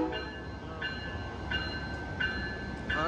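An Amtrak Capital Corridor train led by a Siemens SC44 Charger locomotive rumbles steadily at a station, with a regularly repeating high tonal squeal or chime recurring about every 0.7 seconds over the low rolling drone, heard from a modest distance.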